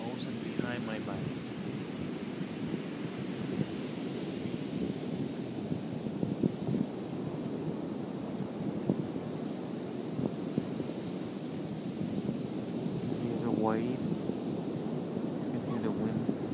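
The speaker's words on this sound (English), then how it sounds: "you can hear the wind, the wave rolling in." Waves roll in at Virginia Beach at sundown under a constant roar of wind buffeting the microphone, a dull, continuous wash with a few swells of surf.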